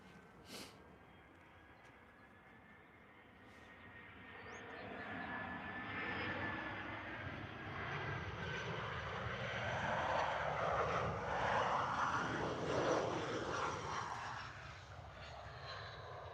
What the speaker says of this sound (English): A320 coming from Derry.